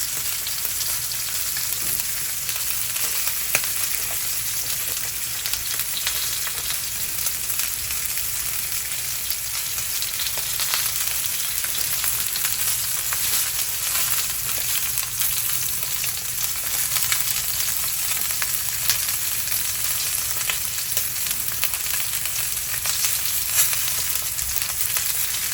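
A whole stick of garlic and herb butter sizzles and fries steadily in a hot pan, a dense continuous crackle at close range with no talking.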